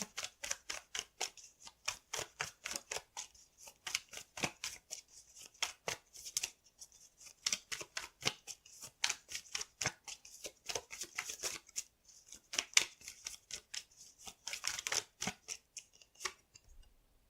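Tarot cards being handled and drawn from a deck, heard up close as a long run of crisp, rapid flicks and snaps with a steady rhythm and short pauses, without talking.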